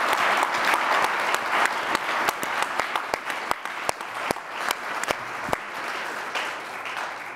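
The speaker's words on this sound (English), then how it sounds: "Please join me in giving our two panelists a huge round of applause." An audience applauds two panelists at a live science-history event, a loud, full burst of clapping with sharp individual claps standing out and thinning slightly toward the end.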